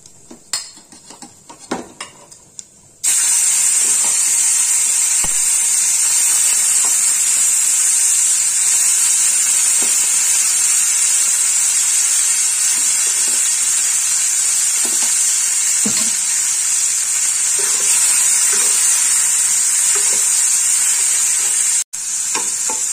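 Prawns hit hot tempered oil for a Bengali loti chingri dish and break into a loud, sustained sizzling hiss. Scattered clinks of a utensil stirring against the pan follow, after a few quieter knocks at the start.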